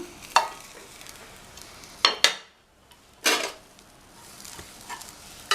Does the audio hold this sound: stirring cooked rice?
yes